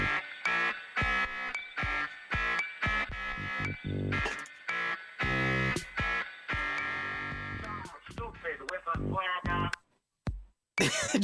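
A lo-fi, distorted rock cover, its riff played in choppy, buzzy bursts like telephone tones, loud and continuous before breaking into scattered fragments and brief silences.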